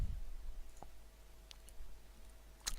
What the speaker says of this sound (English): Click login